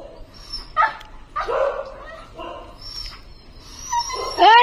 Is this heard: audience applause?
no